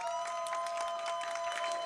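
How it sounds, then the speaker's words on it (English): An audience applauds after a GITADORA drum kit rhythm game showcase at a summer gaming event: steady, dense clapping that is fairly faint and distant, with a sustained electronic tone running beneath it. "Can we get another round of applause for Vincent, please?"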